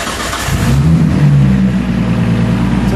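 A car engine runs at a steady idle during a power steering test, a loud close rumble with a low droning hum and a slight rise early on, with no talking over it.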